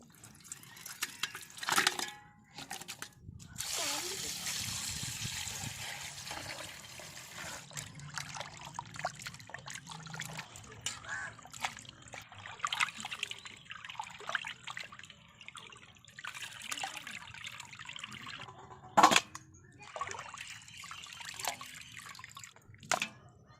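Duck meat being rinsed in turmeric water in a village kitchen: quiet splashing, dribbling and sloshing of water in irregular bursts with occasional louder splashes, close and low in level.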